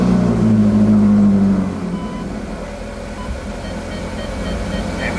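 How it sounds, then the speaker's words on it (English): A Ferrari California engine starting, humming loudly with a steady low drone that drops off after a couple of seconds, leaving a quieter idle as the car is put in reverse. "starting the actual car and then putting in reverse"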